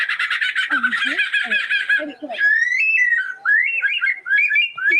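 Pet bird mimicking a kookaburra call, close and loud: rapid chattering bursts give way to rising, laughing whistle phrases, with a squawk or two mixed in.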